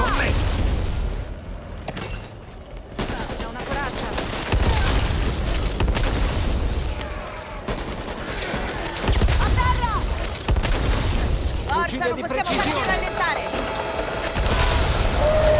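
Rapid machine gun bursts and heavy booming explosions from the co-op zombie shooter Back 4 Blood, loud and dense, with shouted character voices and scattered mechanical clatter throughout.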